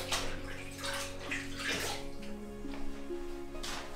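Water runs and splashes steadily as a sponge is soaked for wetting gummed paper tape in an art studio, a close, continuous trickle and slosh with a faint steady tone underneath.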